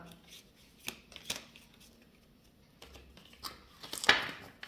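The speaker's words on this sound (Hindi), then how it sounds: "जब मेरी शफलिंग करते हुए कार्ड्स बार बार गिरने लग जाए" Tarot cards being shuffled by hand, with soft irregular riffles, flicks and slaps, close and quiet, plus a brighter burst near the end and no speech.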